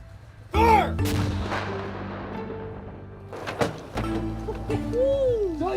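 Artillery fire during military training with National Guard troops: a loud deep blast lands early, followed by a second heavy report midway, with shouted commands and people talking throughout.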